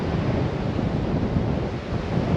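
Strong gusty wind of up to 75 km/h blows across whitecapped water and reeds, making a loud, continuous roar of buffeting gusts against the microphone mixed with the rush of waves.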